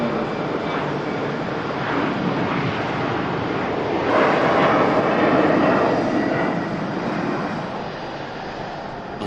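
At Manchester Airport a Boeing 787 Dreamliner passes with a sustained, rushing engine roar that builds midway and then eases off, steady and moderately loud, with some wind noise.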